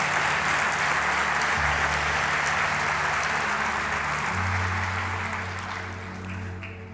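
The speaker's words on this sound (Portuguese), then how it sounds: "Você pode dar a sua melhor salva de palmas a Jesus?" Sustained applause from a large church congregation fills the space, steady and loud, then gradually thins and fades toward the end.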